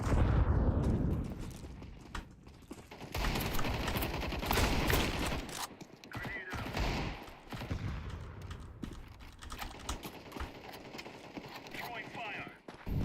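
Gunfire in the video game Counter-Strike comes as bursts of shots and rapid fire mixed with game effects, fairly loud and busy, while players talk over it.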